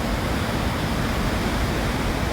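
A waterfall running with high water roars as a dense, constant, broadband rush, loud and steady throughout, with no other sounds standing out.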